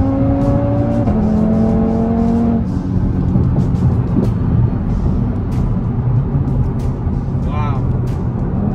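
An Audi TT RS or a Subaru WRX with a CVT accelerates hard from a 40 mph roll, its engine rising in pitch and then holding a loud, steady drone from inside the car.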